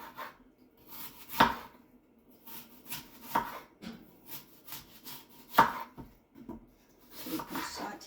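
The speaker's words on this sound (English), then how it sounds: "now I'm going to cut up the apples" Apples being cut up on a board give sparse, uneven knife chops and thuds, a few sharper strikes standing out among quieter taps and rubbing sounds, close and without talk.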